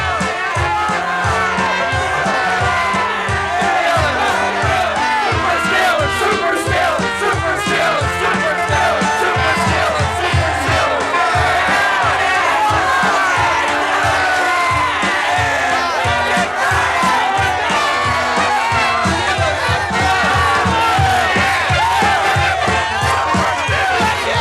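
A large, festive family crowd fills downtown Pittsburgh with loud, sustained cheering and shouting, a dense continuous roar of many voices throughout.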